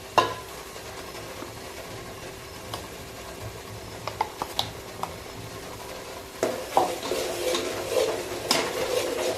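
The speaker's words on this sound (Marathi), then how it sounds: "आता त्यामध्ये मी फुटाणे आणि खोबरं यांचं वाटण टाकून घेते." A paste of roasted chickpeas and coconut sautéed for Maharashtrian mutton rassa, with scattered spoon taps and scrapes against the pan, then louder continuous stirring and a soft sizzle toward the end.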